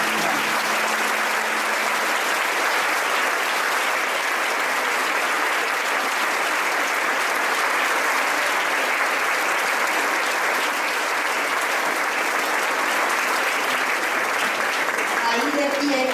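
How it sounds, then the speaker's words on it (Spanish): A church congregation breaks into sustained, dense applause that fills the room loudly and evenly, with a voice faintly audible underneath. "Dale un aplauso al Espíritu Santo."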